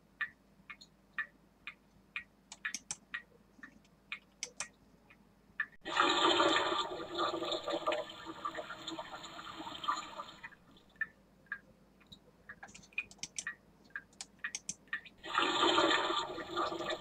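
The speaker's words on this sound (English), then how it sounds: "Dripping water." Water drips in a steady run of small, sharp plinks, twice drowned out by a loud rushing flush of water lasting several seconds, with no voices.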